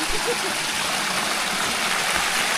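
A strong creek stream swollen after heavy rain and a hailstorm rushes steadily nearby, a continuous broad wash of flowing water with no breaks.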